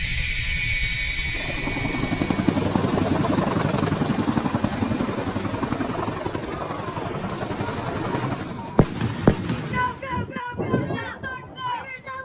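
Dutch CH-47 Chinook helicopters at sling load training make a loud, continuous rotor and turbine roar that dominates, then gives way to sharp clatter and thumps with fainter machinery; voices talk underneath.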